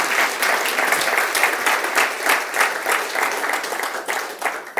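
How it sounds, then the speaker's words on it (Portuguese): A church congregation applauds in a sustained, dense burst of clapping that swells and fades slightly, close and loud, with a few faint voices mixed in. "E se você crer, dê mais um aplauso para o nome do Senhor Jesus"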